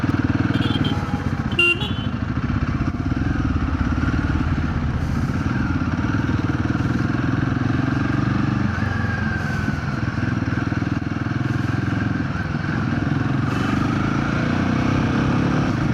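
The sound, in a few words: motorcycle riding in traffic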